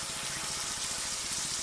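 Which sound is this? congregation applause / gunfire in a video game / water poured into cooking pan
water poured into cooking pan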